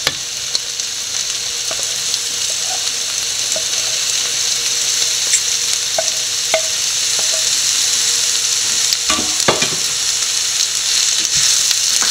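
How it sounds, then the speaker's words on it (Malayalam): Sliced bitter gourd hits a pan of hot oil for pavakka mezhukkupuratti and sizzles steadily, with occasional clinks and scrapes of stirring and no talking. "അതിനുശേഷം നമുക്ക് പാവയ്ക്ക ഇട്ട് കൊടുക്കാം."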